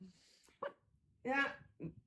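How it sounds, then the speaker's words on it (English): Dogs barking indoors, a few short soft barks and yips spaced irregularly, fairly quiet and close, with a whimpering edge. "So if you listen to them barking."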